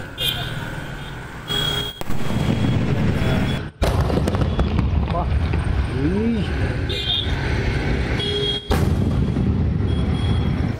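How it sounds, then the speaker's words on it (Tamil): An Asuran paper bomb firecracker from Sivakasi goes off outdoors in a loud run of bangs and crackling bursts, with voices talking through much of it. "நான் இப்ப வைக்க போறது அசுரன் பேப்பர் பாம்"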